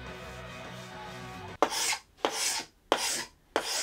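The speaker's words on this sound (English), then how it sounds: "Then came the satisfying part of scraping the glue squeeze out." Glue squeeze-out is scraped off glued plywood boards in four firm, evenly spaced rasping strokes, close and loud, after a quiet stretch of low background hum.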